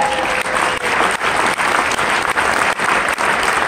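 Lecture audience at a NAMM trade show session breaking into a big round of applause, dense continuous clapping at steady loudness throughout.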